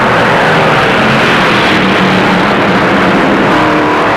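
Stock cars race at the 1958 Southern 500, a loud, dense wall of engine roar with no let-up, the pack thundering close by.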